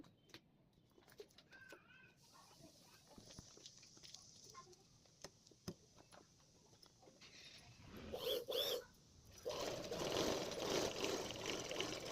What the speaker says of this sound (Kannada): ನಾಲ್ಕು ಸೈಡು ಮಡ್ಚಿಬಿಟ್ಟು ಸ್ಟಿಚ್ ಹಾಕ್ತಾಯಿದ್ದೀನಿ